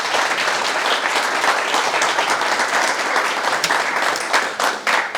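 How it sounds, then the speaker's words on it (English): Dense audience applause at a startup founders' talk at IIT Patna, a steady, loud wash of many hands clapping throughout before easing slightly at the end. "how about we give them a round of applause?"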